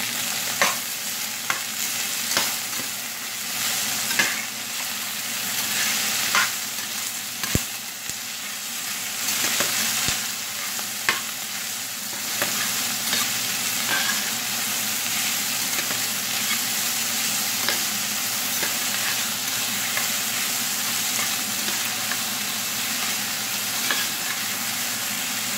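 Chopped onion and green chilli fry in a pan for Kerala-style fish molee, with a loud, continuous sizzle broken by occasional sharp clicks of stirring, and no voices.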